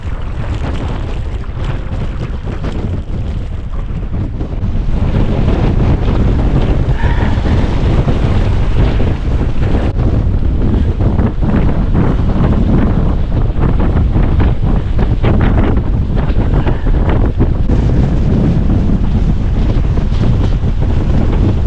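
Strong Atlantic wind at Sky Lagoon in Iceland roars and buffets the microphone in a loud, continuous rush that grows harsher partway through, with a faint wash of water beneath and no talking.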